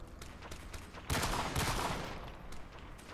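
Rapid gunfire erupts in a public online match of Call of Duty: Modern Warfare, a sudden loud burst of shots that swells and then tails off into scattered distant pops.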